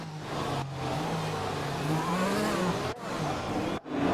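Race cars in a racing video game rev hard for burnouts before the grid at an Australian circuit. A loud engine note climbs and falls in pitch, with brief sharp breaks where the revs cut off.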